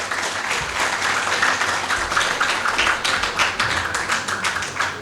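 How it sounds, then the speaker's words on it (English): A crowd at a 14th August Independence Day celebration at a university applauds, steady dense clapping sustained at a fairly loud level throughout. "Please, have a clap."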